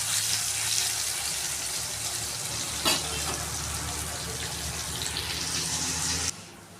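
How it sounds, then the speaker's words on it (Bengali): Chopped raw onions frying in hot oil with bay leaf and whole spices for a mutton curry, giving a steady loud sizzle throughout with a brief clatter of stirring midway, dropping off abruptly near the end. "কাঁচা পেঁয়াজ কুচানো দিয়ে দিয়েছি, তো লাল লাল করে ভেজে নেব"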